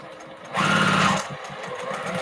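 Sewing machine running on a postage stamp quilt top, a short close burst of motorized stitching lasting under a second amid quiet room sound.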